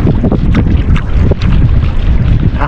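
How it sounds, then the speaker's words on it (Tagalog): Strong wind at sea buffeting the microphone, a loud continuous roaring rumble with gusty bursts and no voices. "Kanina pa tong hangin na to, mas lalong lumalakas."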